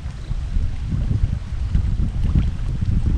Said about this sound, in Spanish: Está un poquito el día ventoso